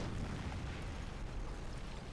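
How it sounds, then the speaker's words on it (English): Artillery spotting round exploding in the Combat Mission Battle for Normandy video game, a deep rumbling blast with a dense, noisy roar that holds for about two seconds, fairly faint and alone. "here comes the spotting round."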